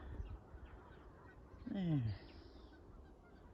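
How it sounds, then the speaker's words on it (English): A goose on a farm gives a short run of honks, near and moderately loud, rising over low outdoor background noise, with a brief spoken word before it. "I hear the geese."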